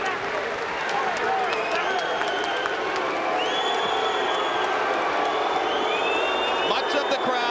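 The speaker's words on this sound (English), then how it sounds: "Much of the crowd booing Pernell as he stands on the ring ropes in the corner in his characteristic victory gesture." Arena crowd at a 1995 boxing match reacting after the fight, a sustained mass of voices with booing, shouts and scattered whistles, with commentary talk running over it.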